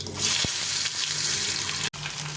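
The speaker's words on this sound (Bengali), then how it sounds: "তেল, শুকনো লঙ্কা আর জিরে দিয়ে ফোড়ন দেবো, আলুটা ছেড়ে দেবো" Dry chili and cumin tempering in hot oil before potato goes in, a broad bright hiss and sizzle filling the pan steadily, with a couple of soft clinks and a brief break near the end.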